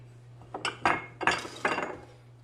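A utensil scrapes and clinks around a bowl as dry cake ingredients, flour, sugar, cocoa powder and baking powder, are mixed for an eggless, butterless chocolate cake, in a few bursts of moderate clatter over a faint hum.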